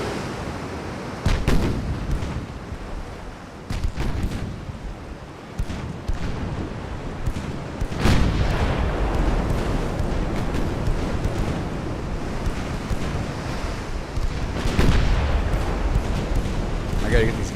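Naval guns boom in the warship game Ultimate Admiral: Dreadnoughts, with several heavy, rumbling blasts over a steady wash of sea and wind ambience.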